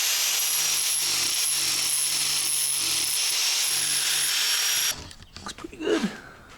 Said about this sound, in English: Let's go grind it down and repaint it.